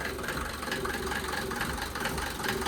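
A Mercedes diesel engine idles steadily with the bonnet open, a continuous mid-pitched knocking clatter with a slight rattle, close and fairly loud throughout.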